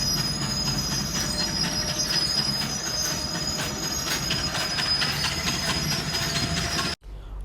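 A long-distance passenger train on a ten-hour journey from Anuradhapura to Matara rolls steadily along the rails, its wheels squealing over a continuous loud rumble from inside the moving carriage, cutting off abruptly at the end.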